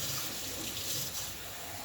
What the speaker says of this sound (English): And make sure you get those all rinsed off.